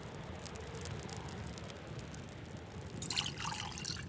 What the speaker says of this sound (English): there would be some water effects for us putting stuff in